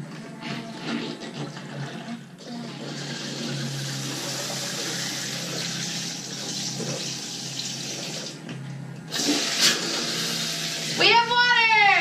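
Water runs steadily from a faucet on a sailboat after a new pump install, a continuous hiss pouring into the sink for several seconds, briefly pausing and surging again, with excited voices talking near the end.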